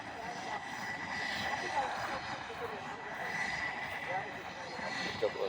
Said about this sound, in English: We got a couple of F-18 growlers.